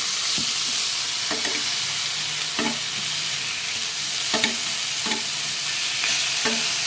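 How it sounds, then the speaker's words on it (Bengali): Eggplant slices frying in a pan: a steady loud oil sizzle with periodic scraping clicks as pieces are flipped, close up and without talk. "বেগুনটা উল্টে দিই"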